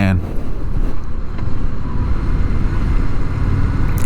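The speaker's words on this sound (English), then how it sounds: "Engine's so smooth, shifting is smooth." A 2025 Indian Scout Sixty motorcycle engine drones steadily during a sunset cruise, its continuous low rumble mixed with heavy wind buffeting throughout.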